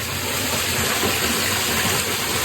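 Steady, heavy rush of water pouring into an old house under renovation, gushing continuously at close range, with no break and no voices.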